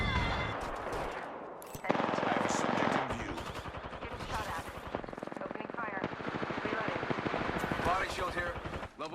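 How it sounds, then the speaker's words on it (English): Video game gunfire, bursts of rapid automatic shots, loud and close, with a voice talking over much of it. "Getting shot at. Opening fire."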